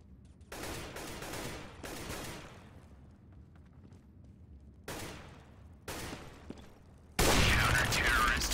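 Bursts of rapid gunfire in CS:GO, several separate volleys with pauses between, the last one loud and close, over faint game background.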